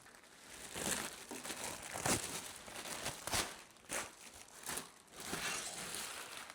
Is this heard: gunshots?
no